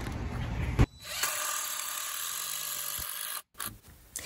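A power drill drives 2.5-inch deck screws through floorboards into joists on a treehouse platform, a sustained whirring burst that stops, followed by a short second spurt near the end.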